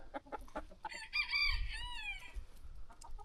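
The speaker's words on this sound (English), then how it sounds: "I know I said I wouldn't feed these feral chickens, but I've been feeding them." Feral chickens cluck in short bursts at close range, and a rooster breaks in with a loud, drawn-out crow in the middle. The birds are heard alone, with no talking.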